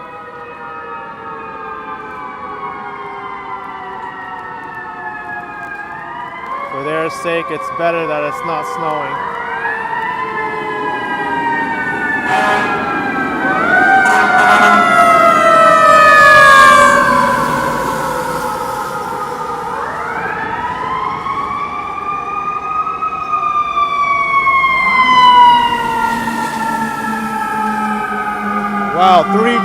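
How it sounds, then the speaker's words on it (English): Several fire truck sirens wail and yelp, overlapping and rising and falling as they pass along a snowy Manhattan street amid traffic, while someone talks nearby. "Sounds like we got some more emergency vehicles on the way."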